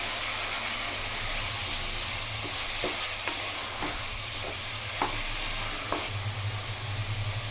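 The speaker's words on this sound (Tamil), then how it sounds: "நம்ம வாஷ் பண்ணி வச்சுருக்கிற சிக்கன் ஆட் பண்ணிக்கலாம். ஒரு 2 மினிட்ஸ் நல்லா கிளறி கொடுக்கலாம்." Washed chicken stir-fried in a pan for a village-style chicken curry gives a loud, steady sizzle. A spatula scrapes and clacks against the pan at irregular intervals.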